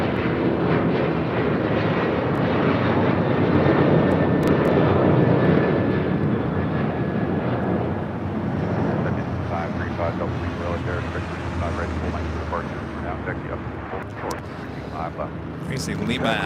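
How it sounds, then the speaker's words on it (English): A Southwest Airlines Boeing 737-800 takes off at LAX, its jet engines swelling into a loud, broad roar that holds steady, then slowly fades as it climbs away, with a voice talking over it. "Next takeoff is Southwest Airlines Flight 2050 heading to Dallas Love Field in a 737-800."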